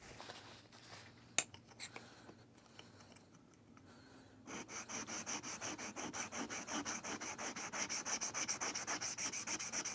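A big single-bevel chisel is sharpened on a stone, starting with quiet scrapes and taps and then turning into loud, rhythmic back-and-forth grinding strokes, close up with no voices.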